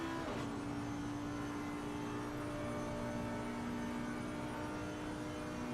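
A racing car engine in a sim racing video game at Spa, a faint, steady droning engine tone with a sustained whine, heard alone without talk.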